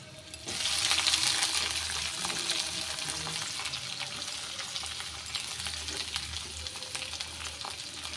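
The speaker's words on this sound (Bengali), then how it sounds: "এবার আমি দিয়ে দিচ্ছি পেঁয়াজটা" Onion frying in a pan, a bright, steady sizzle that jumps up loudly at the start and then carries on evenly at close range, with no voices.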